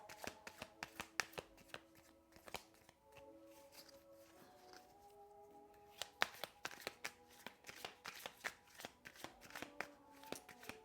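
Tarot cards being shuffled for a reading, a steady run of crisp riffling and soft slaps that comes and goes. Quiet music plays softly underneath the shuffling.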